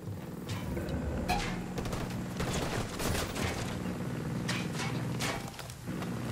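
Rapid bursts of gunfire crackle through a firefight in the game Ghost Recon Wildlands, shots overlapping and repeating steadily across the whole stretch at a fairly constant, moderately loud level.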